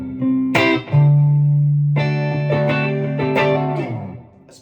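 A high-output electric guitar with ceramic humbuckers played through a Carstens Warm Machine amplifier, loud sustained distorted chords ringing out one after another with a short break between them.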